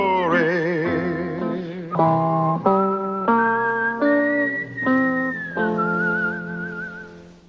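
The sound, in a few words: whistled theme tune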